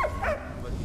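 A dog barks in the World War I video game Valiant Hearts: The Great War, giving a short, close yip or two that fade quickly over a low background hum.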